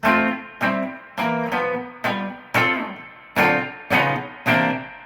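Electric guitar playing a rhythmic turnaround, nine sharp strummed chord hits evenly spaced, each ringing briefly with bright distorted overtones, close and alone with no talking.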